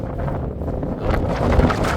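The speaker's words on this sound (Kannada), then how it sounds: "ಗಾಳಿ." Wind gusting across an open spot between Arangal hill and Kote hill in Suntikoppa, Coorg, a steady low buffeting rush with a stronger gust near the end and no voices.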